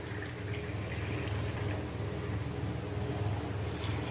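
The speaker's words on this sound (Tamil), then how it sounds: "அந்த டம்ளர்லேயே 2 டம்ளர் தண்ணி ஊற்றுறேன்" Two tumblers of water are poured into a pot of basmati rice for veg dum biryani, a soft, steady trickle heard close and faint with no talk.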